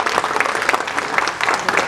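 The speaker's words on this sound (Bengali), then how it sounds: "আমাদের মুখ্যমন্ত্রীর জন্য একবার হাততালি সকলে দেন" A crowd at a press club inauguration applauds the chief minister with dense, continuous clapping close by for the whole stretch.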